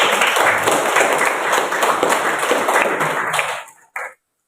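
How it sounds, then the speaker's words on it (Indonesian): Classroom students break into a burst of dense, loud clapping that keeps going for several seconds, then stops abruptly, leaving a single brief knock before silence. "Tepuk tangan buat kalian."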